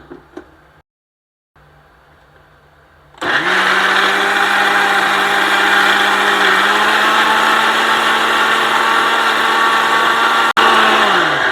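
A mixer grinder grinds roasted coconut for a Vishu kootu curry, starting with a sudden loud whir after a short pause and holding a steady, close motor drone for about eight seconds before stopping abruptly.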